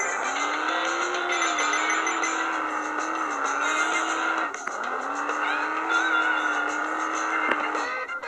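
A big car drives in a video game, its engine giving a steady, continuous drone that wavers slightly in pitch, with a brief dip midway and no talking.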